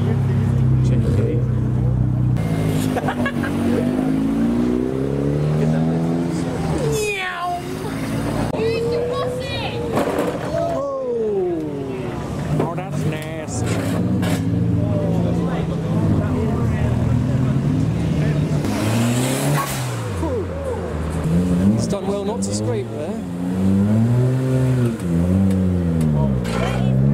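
A Nissan Skyline R34 pulls away from a night-time street car meet, its engine revving and rising and falling in pitch through several accelerations, loud and continuous with traffic noise and people talking over it.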